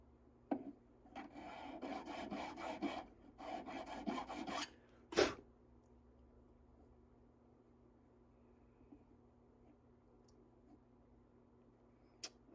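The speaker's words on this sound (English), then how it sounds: "I sanded the edges, gave it a little bit more of a taper back here" Metal ring edges being filed and sanded to a taper, with close rasping strokes in bursts for about five seconds, a sharp knock, then near silence with faint clicks.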